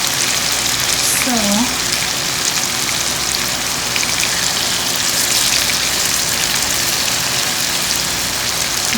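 Chicken 65 pieces coated in oil and masala fry in a pan with a steady, dense crackling sizzle throughout, close and continuous, with a brief voice or tonal sound early on.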